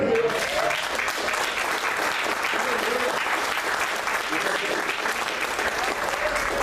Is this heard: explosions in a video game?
no